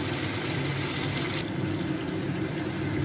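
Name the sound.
hot water poured into pan while cooking chicken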